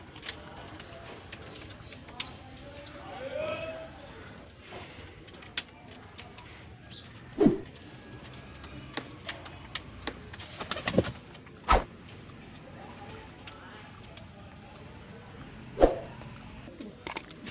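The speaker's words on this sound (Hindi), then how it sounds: "ये भाई गलवा कबूतर है" Galwa pigeons kept at a breeder's loft in Faisalabad coo softly and steadily, with a few louder, brief bursts standing out against low background noise.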